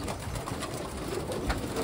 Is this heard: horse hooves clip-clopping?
no